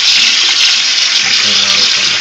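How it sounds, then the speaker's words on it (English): Hot tap water runs steadily into a sink, a loud continuous splashing rush that lasts the whole time. "so you make sure you have your hot water on"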